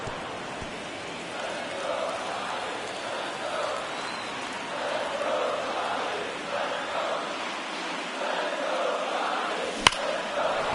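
Crowd noise from a postseason baseball game in MLB The Show 24, a steady, broad roar of cheering fans at a distance that swells and ebbs slightly throughout, with one sharp brief crack near the end.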